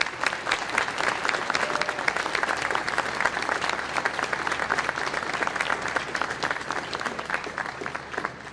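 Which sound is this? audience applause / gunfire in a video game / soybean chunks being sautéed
audience applause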